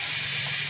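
Steam hisses steadily from a pot of dal boiling in a home kitchen, a smooth, even, fairly loud hiss with no breaks across the short moment.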